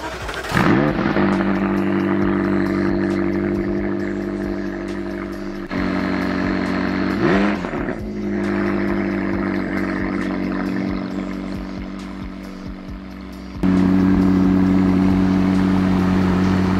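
A McLaren 600LT supercar with top-mounted exhausts fires up with a sharp bark, then settles into a loud, steady idle, with a couple of blips of the throttle between. It sounds close and strong throughout, and no one talks.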